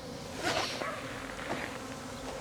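Bees buzzing at a live apiary, a close, continuous droning hum with swells as insects pass near, no talking.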